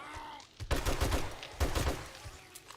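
Gunfire in the survival game 7 Days to Die: two quick, close bursts of rapid shots, each a cluster of sharp cracks, separated by a short pause, with a quieter tail afterward.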